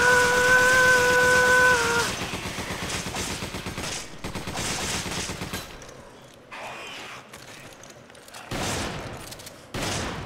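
Video game gunfire in Resident Evil 5, a dense loud volley of rapid shots at first, then scattered bursts and booms among game noise, with no speech.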